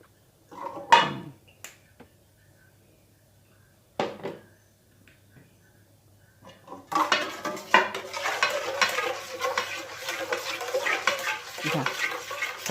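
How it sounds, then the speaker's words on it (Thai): Marinated pork for sun-dried fried pork being mixed by hand in a bowl, a few isolated clinks and taps at first, then a continuous close wet squishing and rustling as the meat is tossed. "เอาหมูที่เราเตรียมไว้มาลงค่ะ นี่ค่ะ เอามาคลุกค่ะ"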